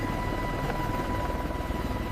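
Helicopter hovering and descending toward touchdown, a steady close rotor and engine roar with low thumping and a thin whine, continuous and loud with no voices.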